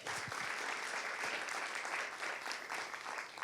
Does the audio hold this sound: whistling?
no